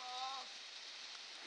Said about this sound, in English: Boy, it's raining.